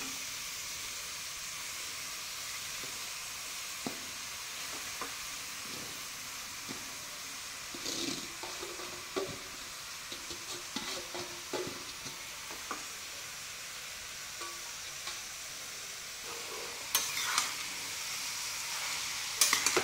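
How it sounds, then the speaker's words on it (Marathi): Grated carrot fries in melted ghee in a pan over a high flame, giving a steady close sizzle and hiss with scattered scraping stir clicks and a few louder crackles toward the end. "मोठ्या गॅसवर पहिल्यांदा एक 5 मिनिट आपण हे गाजर भाजून घेणार आहोत, व्यवस्थित परतून घेणार आहोत तुपावर।"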